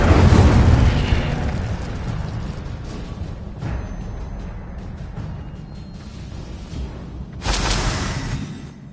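Fire spell cast in Hogwarts Legacy on PS5: a loud whooshing burst at the start, a sustained roaring rumble, then a second burst near the end.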